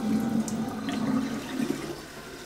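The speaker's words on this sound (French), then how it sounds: "On va mettre de la petite eau fraîche et froide." Cold fresh water runs from a tap to fill a container for watering roses, a steady close rushing flow that gradually softens toward the end.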